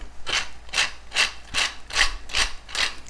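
Black pepper is freshly ground in a hand mill for a vegan gravy, giving a close, steady series of gritty rasping twists, about seven strokes in a regular rhythm.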